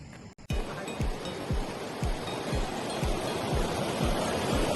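A river flows steadily in the distance, a broad, even rush of water that holds its level throughout, with soft regular thumps like footsteps passing nearby.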